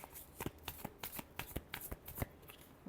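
Tarot cards are shuffled by hand in a quiet room, a rapid run of soft flicking riffles and taps that patters steadily for a few seconds, close and fairly faint, with no voice over it.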